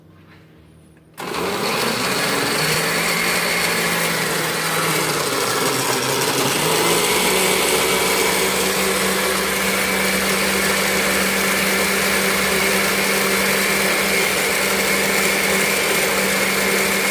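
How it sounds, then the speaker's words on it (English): A kitchen blender starts abruptly and whirs loudly and steadily, chopping watermelon chunks with a cup of water, its motor pitch dipping briefly as the load catches before settling into a constant high drone. "we're gonna go ahead and blend this up"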